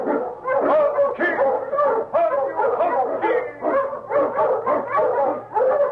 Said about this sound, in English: Wonder Dog King, swiftest and strongest of Eskimo lead dogs, blazes the trail through storm and snow for Sergeant Preston